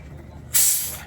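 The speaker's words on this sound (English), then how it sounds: "Faygo Red Pop. I'll let Ryan do the opening." A bottle of Faygo Red Pop soda is opened with a sudden loud burst of fizzing hiss that gradually fades. It plays alone after a second of quiet room tone.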